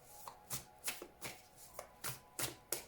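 Tarot cards are shuffled for a cross-spread reading, giving about eight quick, evenly spaced riffling swishes. The sound is close but fairly quiet.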